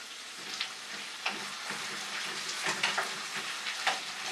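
A potato and onion hash fries in olive oil in a skillet for a chicken adobo hash, giving a dense close sizzle with scattered clicks and scrapes from stirring.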